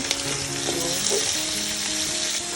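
Shrimp being stir-fried in a pan for pancit with kundol: a loud, continuous sizzle with steady stirring scrapes running through it, close by.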